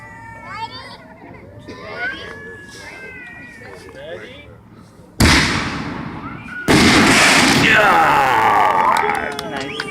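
Top Gun's Black Panther firework shells go off outdoors in two sudden loud blasts, each followed by a long crackling, sizzling roar, after a quieter stretch of children's chatter and a meowing cat.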